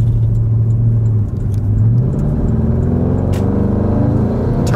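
A loud, raw straight-piped Porsche Cayenne Turbo engine roars close by as the SUV accelerates hard, its rising drone steady and rumbling with a brief dip partway through.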